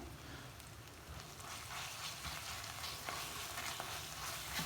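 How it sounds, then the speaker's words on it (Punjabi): Onion, garlic and ginger fry in a pan with a dense, continuous crackling sizzle and occasional soft scraping from stirring, close and steady throughout without any talking. "ਲਸਣ ਤੇ ਅਦਰਕ ਜਿਹੜਾ ਹੈ ਜੀ ਇਹ ਪਾ ਕੇ ਤੇ ਫਿਰ ਅਸੀਂ ਨਾਲ ਹੀ ਪਿਆਜ਼ਾਂ ਦੇ ਲਸਣ ਅਦਰਕ ਨੂੰ ਵੀ ਨਾਲ ਹੀ ਭੁੰਨ ਲੈਣਾ ਹੈ"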